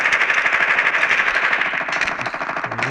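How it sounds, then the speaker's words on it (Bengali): Rapid automatic gunfire rattles continuously in a battle royale video game, a loud, dense stream of shots with no pauses. "আমাদেরকে ফায়ার করতেছে গাইস।"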